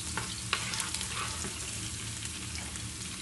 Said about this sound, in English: So my onions is still cooking.